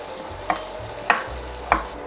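Chopped onion frying in a pan for an eggplant appetizer, a low steady sizzle with three sharp stirring scrapes spaced evenly about half a second apart, close and without talk.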